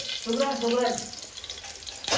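Chopped onion hits hot oil in a tadka with curry leaves, giving a steady close sizzle and crackle that runs throughout while a voice talks over the first second.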